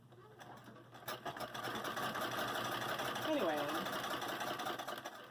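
Sewing machine stitching strips of scrap fabric for an ocean ladder quilt, a steady continuous motor whir running throughout at moderate level, with someone speaking briefly over it.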